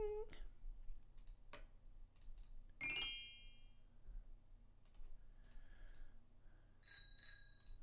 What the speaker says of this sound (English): a bell sound might work